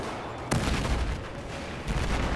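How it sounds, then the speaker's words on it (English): Battlefield 4 multiplayer battle sounds: a sharp gunshot crack followed by dense rolling gunfire and explosion noise, with a second burst near the end, loud and continuous without speech. "Explosions."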